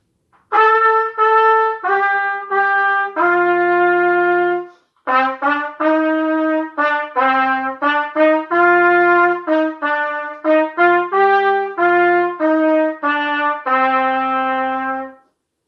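A solo trumpet plays a clear melodic line from O Canada, separate notes, some held longer, with a short pause midway; close and unaccompanied.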